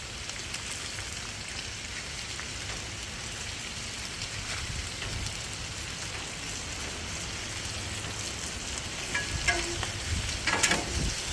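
Cheesesteak meat and melting cheese frying on a Blackstone griddle, a steady dense sizzle with spatula scrapes and stirring clatter growing busier toward the end, close and continuous with no talking.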